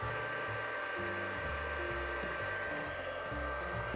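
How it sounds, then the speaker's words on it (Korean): A GM60 mini projector's cooling fan runs steadily, with a quiet whirring hum and a soft rush of blown air, joined by a faint high whine and low pulsing tones. "그 팬 돌아가는 소리에다가 그 바람이 나오는 소리가"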